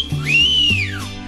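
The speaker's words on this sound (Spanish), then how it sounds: "Déjeme de estar chiflando" A person whistles a single loud, rising-then-falling note lasting about a second, close and clear over a low musical background.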